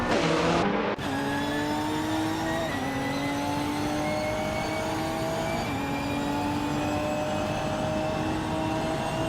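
Race car engines in a racing video game, including a 2019 Jetta G55 Super Cup car, a loud sustained whine climbing through gear changes after a brief burst at the start, with tire noise underneath.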